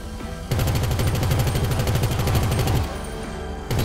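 Rapid automatic gunfire in GTA5 brings down a fleeing helicopter at a large fortress, a loud, dense stream of shots that runs for a couple of seconds before stopping, followed by a short final burst.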